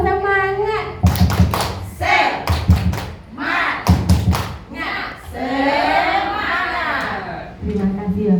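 A group performs a rhythmic 'tepuk semangat' clapping cheer at a school teacher-sharing session, with sharp patterned clap bursts over loud chanting voices and children's speech throughout.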